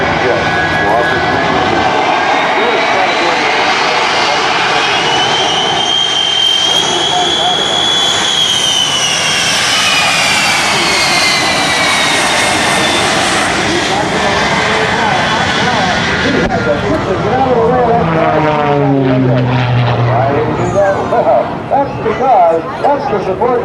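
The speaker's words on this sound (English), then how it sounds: "They'll bring it right back to upright flight without ever deviating from that tight two-ship formation position." Aerobatic airplanes in tight two-ship formation at the 2007 Rhode Island airshow, engines roaring loud and continuous as they pass overhead with a rising and falling whine, while a commentator talks over the sound throughout.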